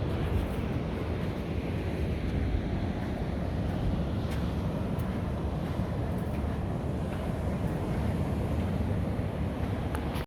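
Steady broadband wash of ocean surf at a rocky beach cove in La Jolla, San Diego, continuous and fairly loud with wind rumble on the microphone, no voices.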